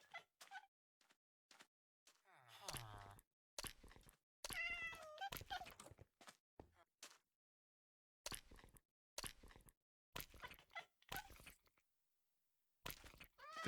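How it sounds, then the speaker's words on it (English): A hungry cat in Minecraft meows repeatedly in short separate cries amid quiet gaps, with soft plops and eating crunches scattered between. "Man, that's one hungry cat."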